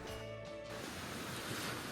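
Ocean waves wash ashore at night on Espiritu Santo Island in the Sea of Cortez, a steady broadband rush of surf, close and continuous, with a faint tonal hum fading early.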